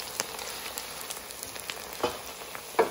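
Ginger and garlic sizzle and crackle in hot oil in a pan as they lightly brown, a steady close fry with a few sharper pops and stirring taps.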